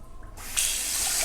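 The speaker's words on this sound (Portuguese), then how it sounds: "Então, vou passar uma água na panela," A kitchen tap is turned on and rinses a cooking pan. After a brief quiet moment, a loud, close, steady rush of running water starts and continues.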